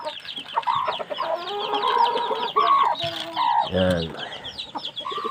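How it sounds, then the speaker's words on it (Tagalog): Pet chickens cluck steadily and close by at feeding time, their calls overlapping in a busy flock chatter; a rooster's crow rises midway, and someone speaks briefly. "Ayan pa ho, yung ibang naming alagang manok."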